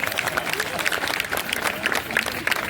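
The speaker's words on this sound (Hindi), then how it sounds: "जोरदार तालियां बजाइए" Audience applause at a poetry recital on a railway senior secondary school stage: dense, steady clapping from a crowd throughout, fairly close, with crowd noise mixed in.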